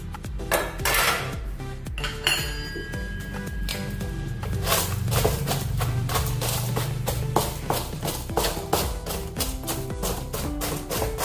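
Cooked suji mixture for rava laddu is scraped and tipped into a large metal vessel, with a spoon repeatedly clinking and scraping against the pot in a steady busy clatter, no talking.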